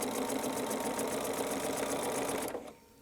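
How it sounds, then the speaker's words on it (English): A sewing machine stitches pieces for a melon block quilt, running at a steady, even hum for about two and a half seconds before stopping abruptly. "So we're going to stitch until we hit this mark."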